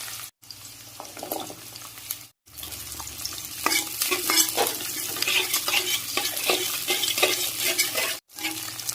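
Onions, garlic, cumin, mustard seeds and dried red chilli pieces frying in oil in a pan, a close steady sizzle broken by repeated stirring scrapes and clinks of a spoon, with a couple of brief silent gaps.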